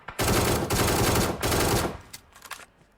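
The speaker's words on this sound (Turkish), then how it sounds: "Arkadaşlar bu taraftan sıkıyorum. Bana atıyor, bana sıkıyor." Automatic gunfire in the mobile battle royale game PUBG Mobile: loud, close, sustained bursts of rapid shots with brief gaps, trailing into a few scattered, fainter shots.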